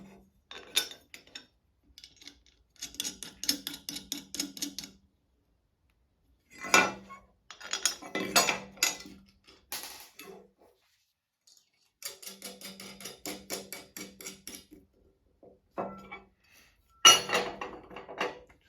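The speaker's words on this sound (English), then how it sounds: "Now, we'll put our bolts in." Metal bolts fitted into a fabricated steel winch mount for a race trailer, giving bursts of light metallic clinks and rattles separated by silent pauses, close by and fairly quiet, with no talking.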